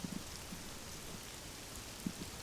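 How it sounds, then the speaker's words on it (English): Heavy rain pours down steadily outdoors at a historic location, a dense even hiss of drops with a few louder nearby splats, no voices. "Rain pours down heavily"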